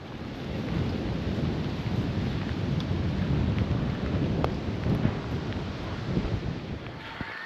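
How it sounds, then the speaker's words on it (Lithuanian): Rain begins falling outdoors on a hike near Kuldīga, Latvia, as a dense, steady wash of noise with low rumbling and wind buffeting, with no voices. "kai jau lietus pareina"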